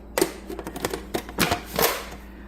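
A plastic lid snapped onto a food processor bowl while making homemade pie crust with butter and flour, giving a quick series of sharp, close clicks and clatters over a couple of seconds with no voice.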